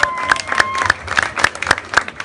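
Applause and clapping from a wedding crowd cheering the neighbourhood's bravest man, a run of sharp, evenly spaced claps with crowd noise between them, loud and close, with no talk.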